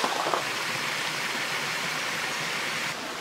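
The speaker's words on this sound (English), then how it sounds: "we're scaling up this little waterfall, primarily for effects and sweeps and whatnot" Small jungle waterfall pouring steadily, a dense close rushing of water with no voices over it.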